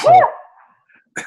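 One loud, close human sneeze bursts out at the start and fades into quiet, followed by a brief spoken word.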